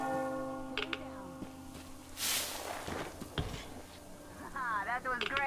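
A bell tolls in the post-apocalyptic shooter game Metro Exodus, its ringing tones sustained and fading amid footsteps and other game noises, with voices heard alongside.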